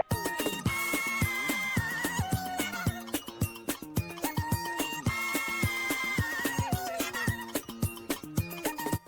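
Fast, high-pitched disco music with chirpy, sped-up vocals and a rapid, dense beat, a 33 1/3 RPM record played at 78 RPM on a wind-up phonograph.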